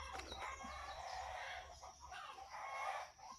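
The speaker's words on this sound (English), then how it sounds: "Chickens are going crazy." Chickens cluck and squawk excitedly nearby, a rooster-like crowing call among agitated bursts, fairly faint against outdoor background.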